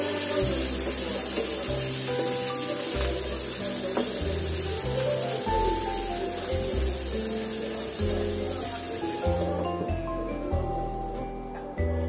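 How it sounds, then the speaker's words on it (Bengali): Hilsa fish frying in a pan with chilies and onions, a steady loud sizzle that continues throughout with faint stirring and no talk. "মাছগুলো আবার এর মধ্যে দিয়ে দিলাম, দিয়ে দিয়ে আমি আর কিছুক্ষণ এটা ভেজে নিব।"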